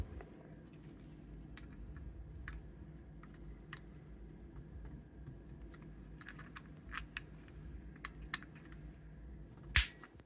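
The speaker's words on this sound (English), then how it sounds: "you just want to hear some more clicks and pops. Those little clips letting go." Plastic clips on a Samsung RMCSPR1BP1 remote case snapping apart under gentle prying, a scatter of small sharp clicks and pops over a quiet background, ending in one louder crack near the end.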